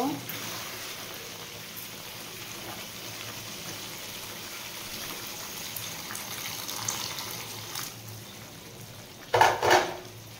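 Hot water poured into a simmering mutton curry in a pot, a faint watery trickle with soft clinks and a brief splashy burst near the end.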